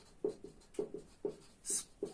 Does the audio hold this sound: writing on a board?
yes